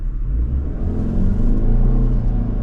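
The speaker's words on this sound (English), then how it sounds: "Now let's check out our turbo engine." A turbocharged engine in a 2024 Subaru Outback Limited XT revs steadily, giving a close, continuous low rumble and drone that swells slightly as it climbs.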